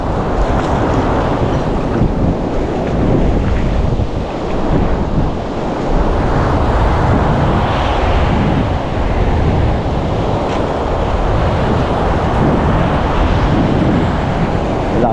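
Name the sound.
ocean waves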